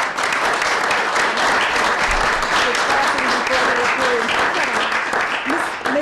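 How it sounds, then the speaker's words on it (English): Sustained applause fills the room at a school board meeting, a loud, continuous patter from many people with a few voices murmuring underneath. "we did clap before your approval, so but we're going to approve you and then we'll clap again."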